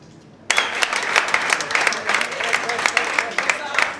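A crowd of guests claps loudly at a South Sudanese university students' annual dinner in Kenya, a sudden burst of applause that starts abruptly and stays strong and close, with sharp individual claps standing out.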